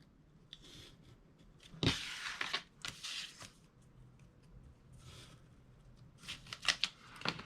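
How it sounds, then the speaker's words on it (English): A finger blade cuts around a paper piece to open a window in a DIY boxed Christmas gift, giving close, quiet scratchy scraping strokes in uneven bursts, some sharper than others. "I'll use my finger blade and just go around this piece"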